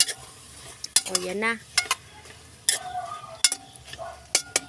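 Hotdog slices with seasonings being stirred in a frying pan, utensil scraping and clinking against the pan in short bursts over a soft sizzle, with brief talking in between.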